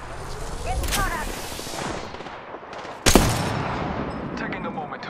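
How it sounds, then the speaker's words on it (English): Gunfire in the Apex Legends battle royale game, with bursts of automatic shots and a sharp loud crack partway through over continuous busy game ambience, a muffled voice faintly underneath. "Taking fire, friends"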